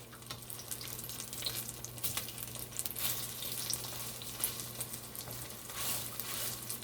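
Salt cod fritters fry in hot oil with a steady, close sizzle and scattered crackles and pops, and no voices over it.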